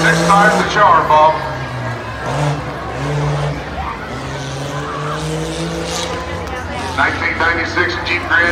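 Stock-class 1996 Jeep Grand Cherokee on a county fair rough truck course, its engine roaring and revving loudly over rough ground while an announcer talks over it throughout.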